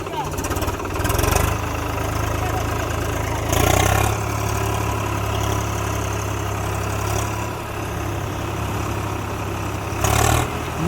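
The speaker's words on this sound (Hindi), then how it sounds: "तो गाइस ट्रैक्टर स्टार्ट हो चुका" A Swaraj 735 tractor engine idles with a steady low drone throughout, its note swelling briefly a few times, close by and continuous.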